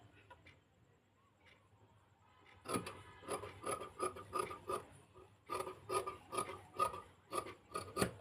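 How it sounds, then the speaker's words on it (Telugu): Scissors cut through blouse fabric in a run of rhythmic, close rasping snips that start after a quiet opening, each stroke crisp and fairly loud. "నేను కటింగ్ చేస్తున్నాను"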